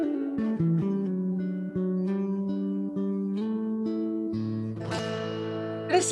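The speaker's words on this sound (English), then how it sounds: "It's called a piccolo bass." Piccolo bass, a bass tuned an octave higher, played melodically with sustained, guitar-like notes shifting in pitch, bright and close, ending on a strummed or plucked flourish with no talk.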